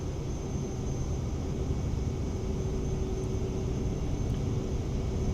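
The Fusion G2 jet in Flight Sim 24 spools up to full takeoff power, a steady broad roar with a thin high whine held at a constant loud level throughout, with no talk over it.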